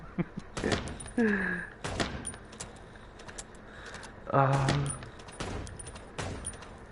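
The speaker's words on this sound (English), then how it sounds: "Your gun doesn't fire fast enough to deal with all those guys." Guns fire in the Chicken Police video game as scattered sharp reports and clattering impacts, fairly quiet, with a voice speaking between some of the shots.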